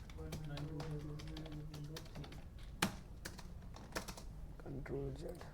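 Rapid keystrokes on a computer keyboard while router interface commands are entered, a quick irregular clatter of taps with a sharper key press or two, heard beneath someone speaking.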